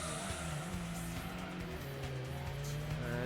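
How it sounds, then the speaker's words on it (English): A car skids under braking in the 1997 PlayStation Gran Turismo, a steady tire squeal riding over a continuous engine drone, mid-level and unbroken, with no talking. "Skidded a little bit there, but managed to get round."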